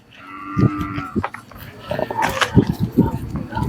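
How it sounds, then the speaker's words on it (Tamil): Cattle at a busy livestock market during a temple festival fair, with low lowing calls and animal noises amid a murmur of nearby voices and crowd bustle. "சூப்பராக இருக்குங்க இந்த மாடு"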